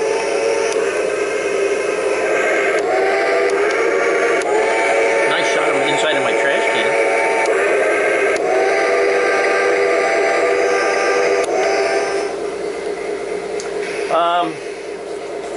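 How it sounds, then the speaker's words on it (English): An N scale model train's sound-effect steam whistle hoots over a steady hiss and mechanical chuffing, with a rising whistle tone near the end as the noise briefly drops. "It has a whistle if you're on steam,"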